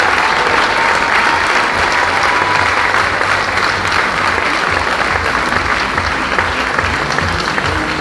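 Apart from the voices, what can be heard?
audience applause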